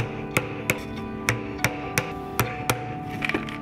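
A hammer taps nails into pilot holes in a wooden birdhouse roof, with sharp, close knocks at an uneven pace and a quick cluster of light taps at the end.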